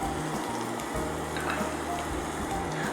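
Chopped vegetables and capsicum sizzle and fry on a hot tawa, a steady close crackling hiss with faint stirring scrapes throughout.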